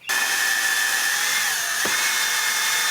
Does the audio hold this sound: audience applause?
no